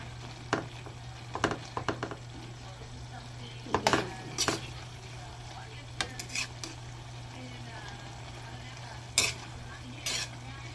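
Vegetables with leftover fried fish and kulitis greens are stirred gently in a pan, producing soft, scattered scraping and clinks of a utensil against the pan over a faint low hum, with no talk.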